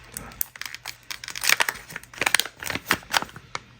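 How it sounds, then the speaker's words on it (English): A sheet of paper is handled and crinkled up close during card making, giving a run of dense crackling rustles and small crumples that keep going for a few seconds with no talking. "So I'll put a piece of paper under it."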